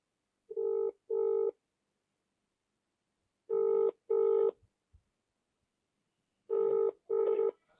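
Telephone ringback on an outgoing call, three paired rings of a steady tone, evenly spaced with silence between them, clear and close with no voices.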